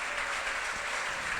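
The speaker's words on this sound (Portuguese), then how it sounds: "Aplauda o Senhor Jesus" A congregation applauds during a women's church service, a dense, steady wash of many hands clapping together without a break, sounding moderately distant and filling the room.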